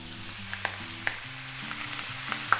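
Pork belly frying in a pan crackles with a steady sizzle and scattered sharp pops, heard close and alone under a low background hum.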